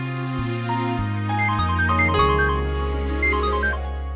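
A melodic electronic ringtone plays steadily, a sequence of bright synthesized tones over a sustained bass, loud and close with no voices.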